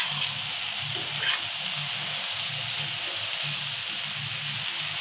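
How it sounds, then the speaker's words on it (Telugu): Okra frying in a pan and being stirred continuously, a steady broad sizzle running throughout with soft low scraping and stirring pulses beneath, close and even, with no talk. "సన్నటి మాట మీద ఇలా కలుపుకుంటూనే ఉండాలి, అడగట్టకుండా వేయించుకోవాలి."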